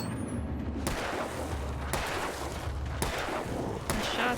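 Gunshots in the Alan Wake video game, four heavy booming reports at roughly one-second intervals over a dense, rumbling game soundscape.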